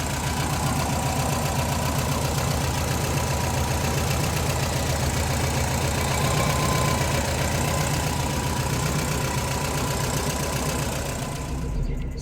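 A car engine idles steadily after an adjustment to the carburettor's fuel bowl setting, with a close, even rumble and a regular pulsing that lasts about twelve seconds without talk.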